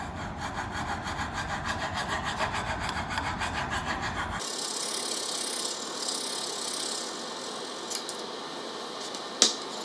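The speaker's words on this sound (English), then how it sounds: "I'm going to start filing in the same direction that the grain of the wood is going, so that I take out any deep gouges" A wood rasp files a wooden belt buckle held in a vise along the grain, producing rapid rhythmic rasping strokes that shift to a lighter, hissing scrape, close and steady, with a sharp knock near the end.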